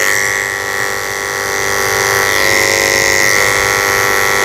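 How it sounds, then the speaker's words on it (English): Electric dog clippers fitted with a 30 blade buzz steadily and loudly up close while shaving around the eyes of a Havanese, the motor tone shifting slightly as the blade meets fur. "I should be able to come in with my 30 blade and just shave out the corners of her eyes."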